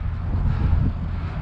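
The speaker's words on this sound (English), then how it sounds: "Those winds are crazy." Strong gusty wind buffets the microphone while cycling on a Trek Dual Sport 1 hybrid bike, a brief low roaring rumble that swells and fades unevenly, with no talk.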